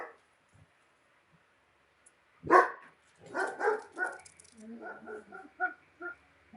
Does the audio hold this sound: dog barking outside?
yes